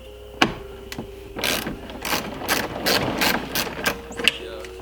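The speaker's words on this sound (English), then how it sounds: "I'm gonna go grab a wrench and yank these 4 bolts out." Wrench ratcheting loose bolts on a car during a head unit install, heard as a string of close, rapid clicking bursts at a fairly steady rhythm following a single sharp knock, with faint background hum.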